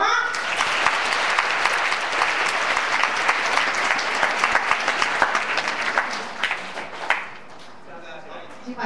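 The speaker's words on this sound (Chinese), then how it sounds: "我们要再给他们一次热烈的掌声" An indoor seminar audience breaks into sustained applause after a speech, dense clapping at full volume that thins and fades toward the end, with a voice briefly heard under it.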